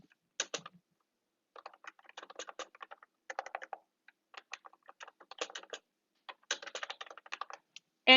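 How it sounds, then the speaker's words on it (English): Quick bursts of keystrokes tapped on a computer keyboard, close and fairly soft, coming in short clusters split by brief pauses, with one louder clack at the very end. "So you can start typing,"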